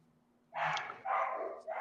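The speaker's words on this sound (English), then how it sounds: "The dogs barking?" Dogs bark in the background of a home, a few quick yaps in succession, fairly faint and distant.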